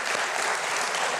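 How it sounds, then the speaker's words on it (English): A dense, steady burst of audience applause at a live magic show as a volunteer is brought up on stage, even and continuous throughout. "Let's give him a nice round of applause."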